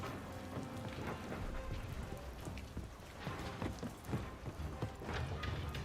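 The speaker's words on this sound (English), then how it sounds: "Those rain effects are great." Steady dense rain patters across surfaces in the Call of Duty: Vanguard video game, a continuous hiss scattered with sharper droplet taps and a few low rumbles throughout.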